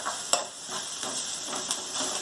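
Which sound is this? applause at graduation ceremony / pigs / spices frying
spices frying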